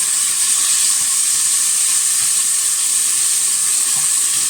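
Onions frying with mustard in a pan give off a loud, steady sizzle and hiss that runs unbroken from start to finish, with no voices.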